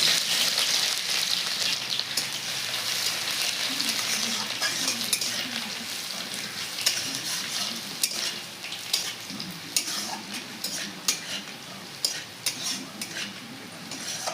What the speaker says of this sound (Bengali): রসুনটা লাল লাল করে ভাজিয়ে নেবো